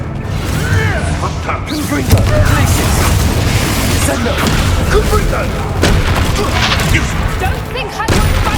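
Confringo fire-blast spell erupting in Hogwarts Legacy, a dense run of booming explosive bursts and crackling impacts filling the whole stretch, loud and close amid chaotic battle noise.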